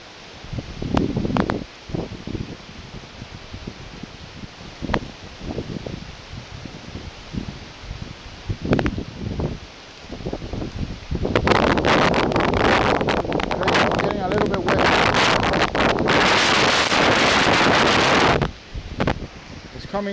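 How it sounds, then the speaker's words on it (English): Strong stormy wind gusts under a bridge while fishing in rain and lightning, starting as intermittent buffeting bursts, then building into a loud, sustained roar in the latter half, with a person's voice heard at times. "And it's really windy."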